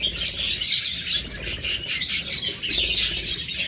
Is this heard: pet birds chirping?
yes